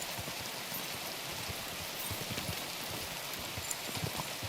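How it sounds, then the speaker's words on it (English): Rain falls steadily in a video game as a soft, continuous hiss, with faint irregular thuds beneath it that suggest hooves. No one speaks over it. "How come every time I come out this way, it's raining?"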